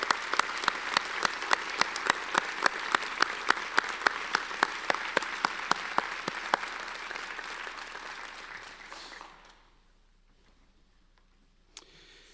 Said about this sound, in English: please join me in giving a round of applause for these representatives